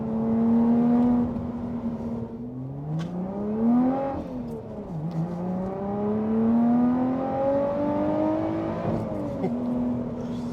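A Lotus V6 engine drives on the road, a steady mid-pitched drone with harmonics that rise and fall through gear changes and throttle shifts, close and continuous throughout.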